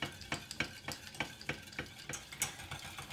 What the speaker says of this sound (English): You must continually work quickly and keep that whisk going.